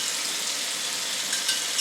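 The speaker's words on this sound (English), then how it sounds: "we needed this rain so bad" Steady rain falls outside during a dry spell, a constant hissing patter with no pauses, moderately close and undisturbed by speech.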